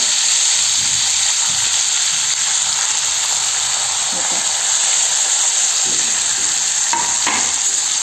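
Pieces of vaam eel fish fry in a pan, a loud, steady hiss of sizzling oil with a few soft pops and clinks, close and continuous.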